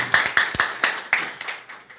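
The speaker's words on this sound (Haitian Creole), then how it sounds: "On doit applaudir présent bon Dieu dans la vie." About eight sharp hand claps from a church congregation ring out one after another at an uneven pace, fairly close and with no voices.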